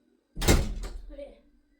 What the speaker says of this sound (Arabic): اقفلي يا بلبل الباب